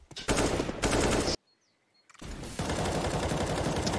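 In a Counter-Strike pro match between BIG and Fnatic, rapid automatic gunfire sprays in loud, dense bursts, broken by a sudden near-silent gap before the shooting resumes.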